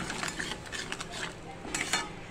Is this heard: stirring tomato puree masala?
yes